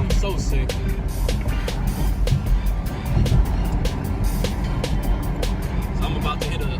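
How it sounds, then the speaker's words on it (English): A 2019 Chevrolet Camaro SS exhaust rumbles loudly and steadily while driving through gears, heard from inside the car with wind and road noise mixed in. "basically be able to hear that mug downshift sound so sick."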